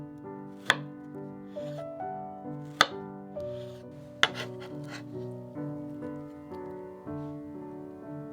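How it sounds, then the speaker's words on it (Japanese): Strawberries being finely chopped with a knife for overnight oats, heard as three sharp, separate knife strikes on a board spaced a second or two apart, set against soft background music. "いちごは細かく切ってオートミールと混ぜ合わせます"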